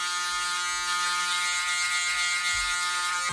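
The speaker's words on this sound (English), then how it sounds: "I'm just working the shaver now." An electric shaver buzzes steadily, trimming hair just below the blending line during a buzz cut with a number 4 on top; the close, continuous motor hum has a strong harmonic whine and small shifts in pitch as it moves.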